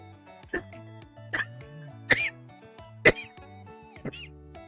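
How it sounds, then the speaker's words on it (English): Five short, sharp coughs come at roughly one-second intervals, close and fairly quiet, over a soft background of music. "I'm still having coughs."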